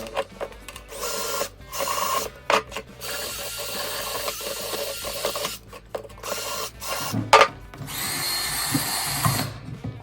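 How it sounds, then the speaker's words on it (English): A wire brush scrubs a brake rotor from a 2007-2013 Chevy Silverado, giving a continuous harsh scraping rasp with uneven strokes and brief gaps, close and fairly loud. "Use my wire brush. Sand that up."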